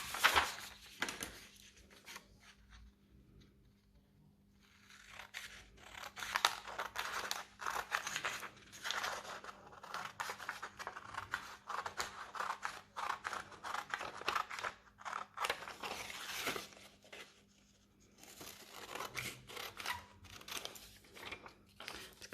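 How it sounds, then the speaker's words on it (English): Scissors snipping through paper while cutting out the rotor shape of a paper helicopter, a close, steady run of crisp cuts that pauses briefly and then continues, with no talking. "I'm going to cut down the rotor lines to separate our 2 rotors"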